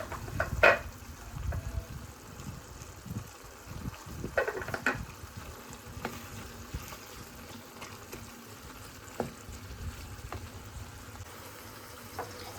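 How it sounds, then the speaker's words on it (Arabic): Kofta meatballs fry in a pan over browned onions, a soft continuous sizzle under occasional clacks and scrapes of stirring, close but fairly quiet. "من بعد ما تقلت لي ديك البصله مزيان وسهطت زديت عليها الكفته"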